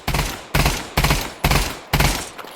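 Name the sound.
Glock gunfire in video game Pavlov VR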